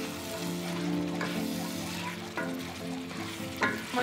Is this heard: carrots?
yes